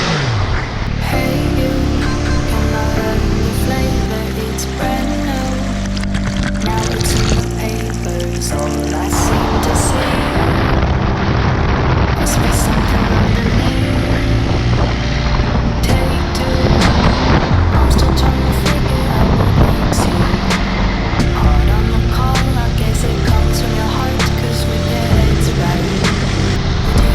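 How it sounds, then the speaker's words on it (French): An 800 cc three-cylinder, 110 hp motorcycle accelerates hard on a mountain road, with a loud rising engine roar, gear changes and wind noise throughout. "l'accélération qui est là, 110 chevaux, 800 cm3, 3 cylindres, c'est amplement suffisant. La moto dégage à tous les tours"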